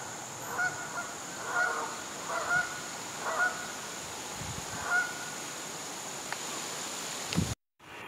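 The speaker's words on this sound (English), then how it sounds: "Geese flying." Geese honk in flight over Farrar Pond in a steady series of calls, moderately distant, with rustling in between before the sound cuts off abruptly at the end.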